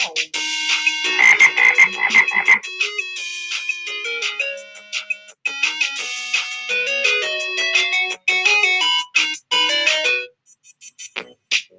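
A series of electronic, cartoonish frog croaks and ribbits play in a bouncy musical pattern, bright and close, with short pauses between phrases.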